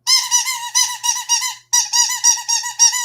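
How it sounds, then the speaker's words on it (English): A squeaky toy rabbit lets out a rapid series of high, bright squeaks, two quick bursts of about five or six each separated by a brief pause, loud and close. "I guess he sounds like a squeaky toy."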